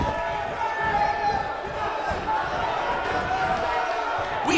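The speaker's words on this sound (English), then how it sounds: "We have a sold-out, record-setting crowd here for BCW tonight." A sold-out arena crowd in the wrestling video game WWE 2K19 roars in a continuous, loud wash of cheering that carries unbroken from start to finish.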